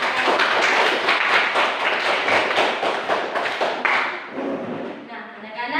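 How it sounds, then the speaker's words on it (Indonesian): A classroom of students claps for a student group after their experiment report, a dense, steady patter of hands that fades and thins near the end. "tepuk tangan untuk kelompoknya Ekrin"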